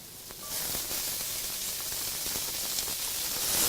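Onion and pepper fry in rapeseed oil on a Weber Spirit II E 310 gas BBQ, a loud, steady hissing sizzle that swells after the food goes in, with faint stirring clicks and no talk.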